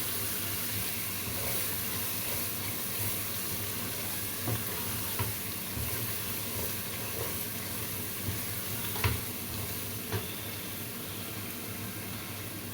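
Tomato frying in a pot for an African rice stew makes a steady, moderate sizzle with occasional soft knocks and scrapes from stirring, and no voices.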